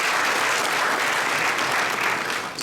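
Graduates at a skills-training graduation ceremony clap together in a dense, steady burst of applause that holds evenly and starts to thin just at the end.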